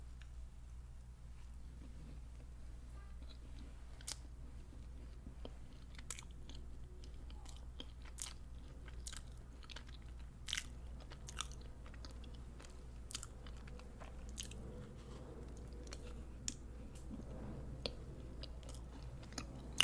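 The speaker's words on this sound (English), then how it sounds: "I just want to take a bite of this key lime tart first because it looks so delicious." Quiet, close crunches and bites on a key lime tart, followed by soft chewing, scattered at an irregular pace over a low steady hum, with no talking.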